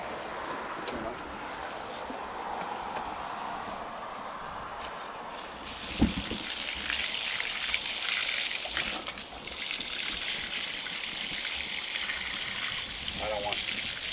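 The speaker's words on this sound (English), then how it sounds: "I'm going to give them a good rinse down." A water hose sprays and trickles over freshly cleaned flounder, a steady hiss of running water that grows louder and splashier midway, with a brief knock.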